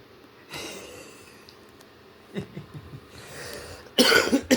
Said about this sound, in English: I'm coughing up all the cigarette stuff still.